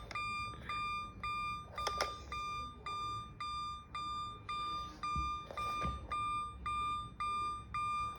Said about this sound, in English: yeah, see the light beeps.